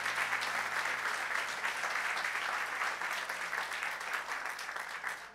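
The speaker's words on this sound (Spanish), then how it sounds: "Denle un aplauso bien fuerte a nuestro Dios." A church congregation breaking into applause during a sermon, sustained dense clapping from many people, fairly loud and even, with no speech on top.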